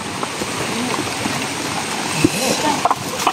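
Heavy rain pours down steadily in a dense, constant hiss with a few louder splashes near the end, while people talk over it.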